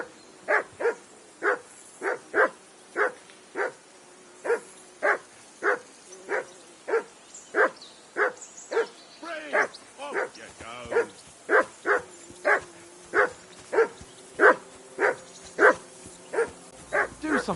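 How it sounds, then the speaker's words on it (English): A dog in Kingdom Come: Deliverance II barks over and over in a steady, evenly spaced rhythm, a couple of dozen sharp barks at moderate volume with only a brief irregular stretch midway. "Call off that mutt of yours!"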